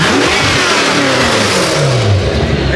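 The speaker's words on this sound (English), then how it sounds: "You can hear the turbos." A 1000-horsepower Corvette engine with upgraded turbos revs hard and loud, a continuous close roar with rising and falling pitch filling the whole moment.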